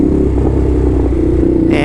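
A Ducati motorcycle engine runs steadily on a New York City street, a loud, close, continuous low rumble with a slight change in tone near the end.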